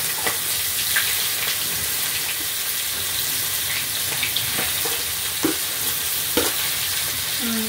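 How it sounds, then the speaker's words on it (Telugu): Onions and green chillies fry in a pan for Andhra-style egg curry, a loud continuous sizzle broken by scraping stirs and occasional clinks of a utensil against the pan. "సో ఇప్పుడు ముందుగానే కట్ చేసుకొని ఉంచుకున్న ఉల్లిపాయ, పచ్చిమిరపకాయలు వేసుకుంటాం."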